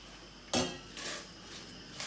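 Fresh spinach tumbles into a pan to cook, making a clattering rustle followed by a couple of softer scrapes and knocks of utensil against the pan, all close and fairly quiet.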